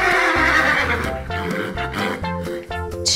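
Horses neighing near a barn and paddock on a farm, loud drawn-out whinnies with wavering pitch, repeated in several bursts and heard alone without talk.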